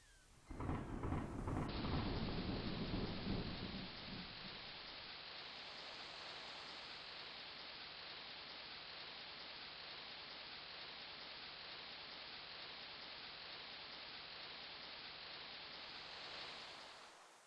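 Thunderstorm and rain conjured by a storm brew spell in King's Quest III Redux: a loud rumble of thunder at the start, then steady, even rain hiss that continues unbroken to the end.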